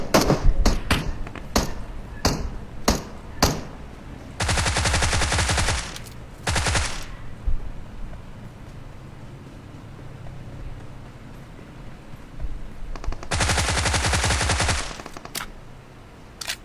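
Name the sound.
gunfire exchange in a video game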